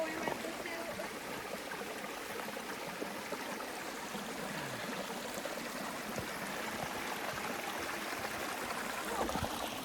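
A stream running along a hiking trail, steady broadband rushing and trickling water that fills the whole stretch at an even level, with people talking faintly over it.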